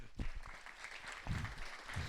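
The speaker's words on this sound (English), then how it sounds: "So I think they deserve an applause from them" Faint, sparse applause from a small audience at a tech meetup talk, a few scattered claps close by rather than a full ovation, quiet throughout.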